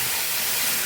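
Loud, steady hissing sizzle as a little water hits spiced potato masala frying in a pan for stuffed aloo dum; a brief continuous burst, close up and unbroken.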